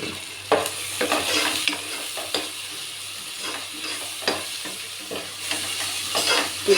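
Ground masala frying with onion, capsicum and green chillies in a pan for palak rice gives a steady sizzle, broken by repeated scraping stirs of a spoon against the pan. No one speaks.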